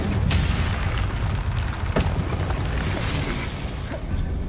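A Confringo fire spell bursts in Hogwarts Legacy with a loud, rumbling explosion that fills the whole stretch, punctuated by a few sharper cracks.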